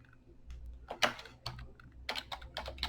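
Typing on a computer keyboard while entering item details into estimating software, a quiet run of close, irregular key clicks in short bursts with no talking.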